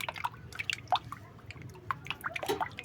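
A small spoonful of turmeric is stirred into a litre of water, giving close, irregular drips, light sloshes and wet clinks in a quick, uneven rhythm.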